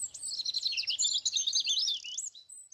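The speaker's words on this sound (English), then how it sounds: "Oh, really nice with the bird song" Birdsong accompanying an online dance class trills and chirps in a rapid, high warbling run that is fairly quiet and clear, then tapers into a few faint tweets at the end.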